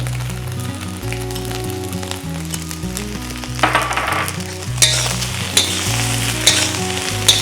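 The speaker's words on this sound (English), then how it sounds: "Keep on stirring the rice with the shrimp" Rice stir-fried with shrimp and green onions crackles in a hot pan, a constant loud sizzle with stirring scrapes, over steady background music.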